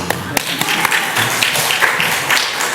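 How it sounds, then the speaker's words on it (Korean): A church congregation at an evening New Year revival service breaks into steady, dense clapping, a close and fairly loud wash of applause with a few sharp individual claps. "오케스트라 지휘하는 것 같아서 박수합시다"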